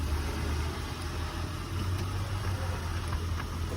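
A freshly jump-started car with a 3.2 VTEC engine idles and runs steadily close by, a low even rumble with little change, no talking.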